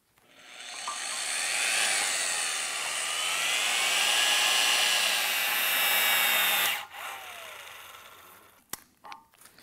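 A pneumatic impact wrench set to 450 foot-pounds runs a long continuous whine while tightening a bolt, holding steady for several seconds before cutting off, followed by a few faint clicks and knocks.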